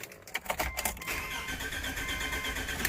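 A car engine cranks and catches after its spark plugs are replaced, a short whirring start that settles into an uneven idle, close and fairly faint.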